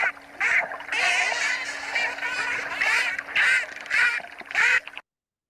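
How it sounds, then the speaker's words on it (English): Dolphins give a synchronized squawk, a series of loud harsh bursts in quick irregular succession over a steady faint background hum, ending abruptly in silence. "So this is a specific type of sound called a synchronized squawk."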